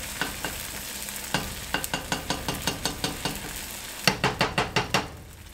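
An egg with its yolk popped is stirred and mixed in a hot frying pan for a breakfast sandwich, a steady sizzle under a run of regular utensil scrapes and taps, a quick flurry of louder strokes near the end, no talking.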